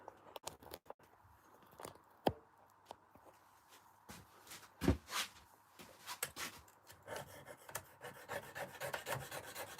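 Slate edges are rounded during stone carving, with close, irregular rasping and scraping strokes broken by sharp taps and knocks of the tool on stone.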